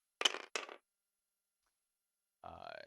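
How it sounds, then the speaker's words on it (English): Dice rolled during a tabletop wargame make two short, sharp clattering bursts close by, followed by silence before another sound starts at the end. "Just got a few more dice to roll."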